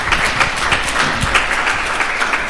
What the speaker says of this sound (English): Spontaneous round of applause.